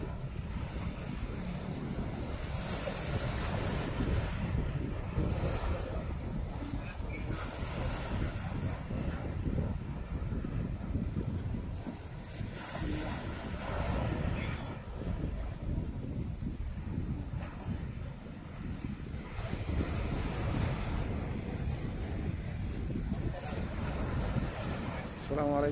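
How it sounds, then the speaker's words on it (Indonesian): Waves wash onto Jeddah beach on the Red Sea at dusk, surf rolling in continuously under gusts of wind buffeting the microphone, with the roar swelling and easing over time. "Petang ini saya berada di pantai Jeddah, di tepi Laut Merah."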